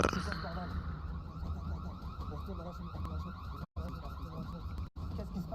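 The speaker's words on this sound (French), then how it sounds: "il y a une alarme et je le sais" An alarm goes off in a video game, a loud, steady, looping electronic wail that runs the whole time, with voices talking over it.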